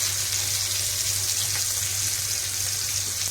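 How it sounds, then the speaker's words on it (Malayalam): Chickpea falafel frying in hot oil, a steady, close crackling sizzle that continues evenly with no talk. "ഇനി നമുക്ക് തിളച്ച എണ്ണയിലേക്ക് ഓരോന്നിടാം"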